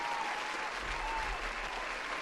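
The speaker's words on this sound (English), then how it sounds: "Let's get one more applause for all the super chats tonight." Applause during a solo live stream, a faint, steady wash of clapping that sounds like a canned or distant crowd, with no voices over it.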